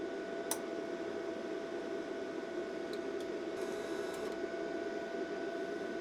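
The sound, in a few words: Vevor MIG-200 flux core welder feeding wire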